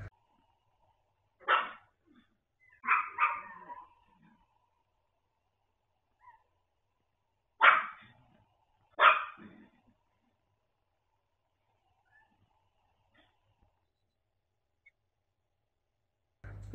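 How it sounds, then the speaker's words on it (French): A dog at home barking and whimpering in distress, several separate bursts of cries and yelps spaced over a quiet room, with long silent gaps between them. "Elle faisait que d'aboyer, de pleurer, d'hurler à la maison."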